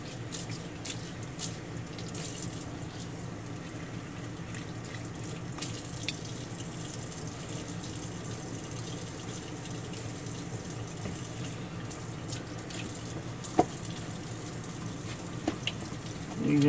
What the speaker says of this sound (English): Come over here, rinse the sink out.